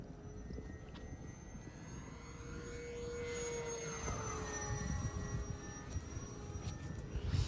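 An Arrows Sky Cruiser 1400mm RC trainer plane with a front propeller flies overhead, its steady motor drone and whine rising and falling in pitch as it passes, fairly distant and without talk.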